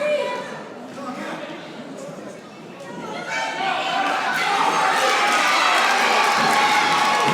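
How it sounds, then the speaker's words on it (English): Sellout hometown wrestling crowd at a castle event roars and cheers, building from a loud murmur into a sustained, swelling wall of noise while a commentator talks over it. "Listen to this sellout crowd"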